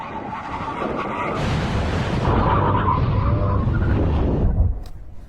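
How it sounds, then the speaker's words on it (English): Lamborghini Aventador braking hard after crossing a drag race finish line, a loud sustained roar of engine and tyre noise that builds, holds for several seconds, then cuts off abruptly. "see if Mark can actually stop his car properly"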